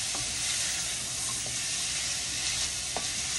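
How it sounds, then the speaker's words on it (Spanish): Pumpkin, onion, garlic and pepper sauté in a pan with coriander and adobo seasoning, giving a steady, close sizzle throughout with a few faint utensil scrapes and no talking. "aquí vamos a sofreír la auyama, la cebolla, el ajo, la pimienta, coriander y el adobo goya."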